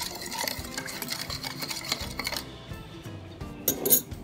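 A spoon mixes yeast and sugar in a small bowl, giving a run of light clinking and scraping taps that stops partway, then a few brighter clinks near the end, close and fairly quiet, with no voices.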